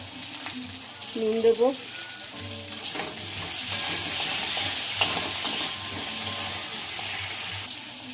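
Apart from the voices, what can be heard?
potatoes stirred and frying in oil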